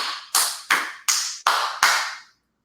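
Five slow, evenly spaced hand claps, loud and close with short decays, imitating the Joker's clap, alone with no talk.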